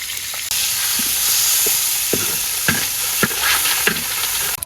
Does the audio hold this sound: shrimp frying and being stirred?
yes